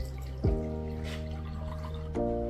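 Water poured into a glass for a plant-leaf cleaning mix, a quiet steady trickle with the pitch shifting as the glass fills, in two short bursts.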